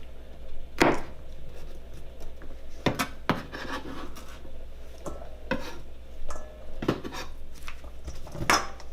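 Half of a large red pepper is diced with a knife on a cutting board, giving sharp, scattered chopping taps at an uneven rhythm over a low steady background hum.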